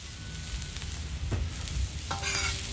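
Onions browning in a pan over an outdoor grill, a faint low sizzle under open-air ambience with a few soft utensil scrapes and a brighter crackle near the end, no one speaking.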